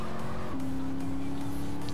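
A car engine in the driving game MTA, a steady droning hum that holds one pitch, then jumps slightly higher and stays level, with a hint of tire noise.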